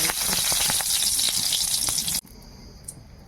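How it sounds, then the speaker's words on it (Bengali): Dried red chilies sizzle and crackle loudly in hot mustard oil in a wok, with small popping bursts, then cut off abruptly, leaving a quiet background. "কড়াইতে এবার একটুখানি সর্ষের তেল দেবো শুকনো লঙ্কা করে"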